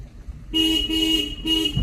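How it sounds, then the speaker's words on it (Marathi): A car horn sounds in two close, loud toots, the first held longer than the second, from inside a training car during a driving-school lesson in traffic. "हॉर्न वाजवा"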